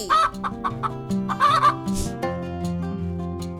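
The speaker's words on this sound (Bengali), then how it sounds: "এটা হলো মুরগি মুরগিকে ইংরেজিতে বলে চিকেন" A chicken clucks several times in quick, close bursts over sustained background music, with a brief rustle near the middle.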